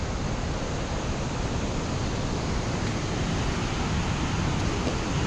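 Snowmelt-fed Langtang river rushing past a landslide area, a loud, steady broadband roar of flowing water close by, continuous and unbroken with no voices.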